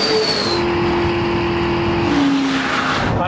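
A Chevrolet Corvette ZR1 screams in fifth gear at around 160 mph, a loud steady engine howl that climbs in pitch continuously, with wind and road roar filling the background throughout.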